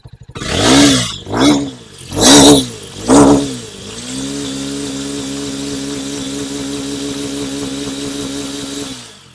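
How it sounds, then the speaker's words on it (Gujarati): A motorcycle engine revved hard four times in quick bursts, then settling into a steady, loud idle hum. "આ ગાડીને આપણે રેસ કરશું"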